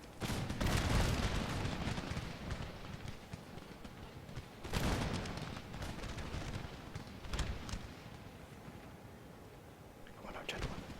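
Cannon fire from a gunpowder-era naval and land battle in the strategy game Empire: Total War rolls out in heavy booming volleys, with bursts near the start, around five seconds and again late, over continuous battle din.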